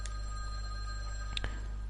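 A telephone rings inside the video game Witch On The Holy Night, a soft electronic ring with steady tonal lines over a constant low hum and a couple of brighter chirps near the end.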